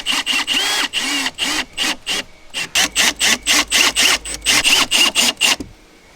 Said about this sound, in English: I got to drill through the side plastic